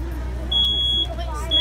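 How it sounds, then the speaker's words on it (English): A smoke detector alarm sounding during a fire department demonstration, emitting steady high-pitched electronic tones in short bursts over a low rumbling background hum. "The smoke detector is already activated."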